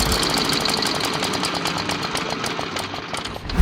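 A rare 1916 Traub motorcycle engine runs close and loud, its rapid, even firing beats forming a hard mechanical chatter with no talking.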